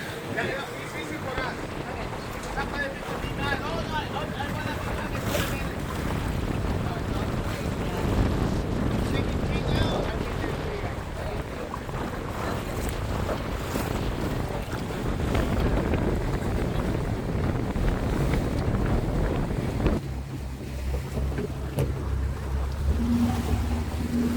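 A private boat carries two passengers across the ocean off Cabo San Lucas, its steady engine and water rush mixed with wind buffeting the microphone throughout, loud and continuous, with voices talking over it and a lower, calmer drone near the end.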